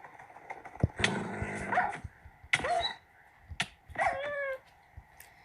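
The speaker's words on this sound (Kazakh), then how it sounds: "Мына жақта ит жүр екен." A dog growls and whimpers in several short, fairly close bursts, separated by brief quiet gaps, with no talking.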